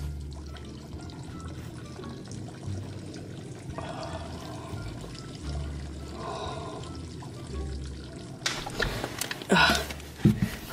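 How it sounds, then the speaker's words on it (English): A man urinates into a bottle inside a cardboard box: a soft trickle and pour of liquid that builds toward the end with a few louder splashy bursts, close and otherwise quiet. "I just went pee in this bottle, guys"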